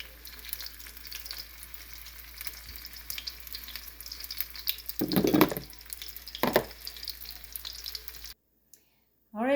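Egg rolls deep frying in shallow oil, a steady close crackling sizzle with a louder burst of bubbling midway, then cutting to near silence at the end.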